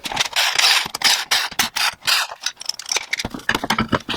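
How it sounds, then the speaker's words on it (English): Mechanical clicking, rasping and ratcheting from work on the front wheel of a 2006 Toyota Matrix 4WD in a garage, likely a ratchet or impact tool loosening lug nuts. Close and fairly loud, with irregular bursts and no talk. "so let's get the front wheel off and get started."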